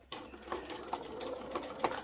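A sewing machine stitches echo quilting lines guided by a ruler, a quiet, close mechanical whirr with rhythmic needle taps and small accents, no talk.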